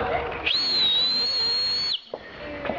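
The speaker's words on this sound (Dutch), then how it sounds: "Die fluit is hard." A single loud, sustained whistle blast holds one steady high pitch for about a second and a half, then stops abruptly, with faint background noise around it.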